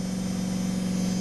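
A Dodge Dakota engine running on a Wayne Keith wood gasifier, idling with a steady, close, even drone and no starting or revving.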